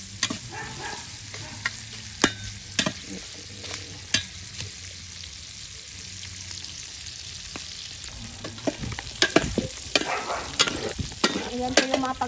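Meat frying in a pan until crispy over a wood fire, a low continuous sizzle broken by sharp clacks of a spatula stirring and scraping, sparse early on and more frequent toward the end, with no talk.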